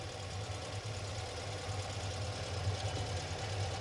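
A 1981 police motorcycle carries nine men, its engine droning in an even, throbbing idle-like rumble, fairly faint and continuous throughout.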